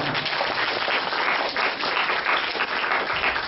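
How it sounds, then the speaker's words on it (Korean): A crowd at a children's science lecture on AI music gives a round of applause, a thick, even wash of many hands clapping that holds steady throughout with no voices. "박수 한번 주세요"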